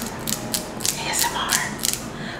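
Small clips on a synthetic wig styled after Nicki Minaj snap and click repeatedly, a quick irregular series of plastic clicks and ratcheting creaks close to the microphone, with no talking over them.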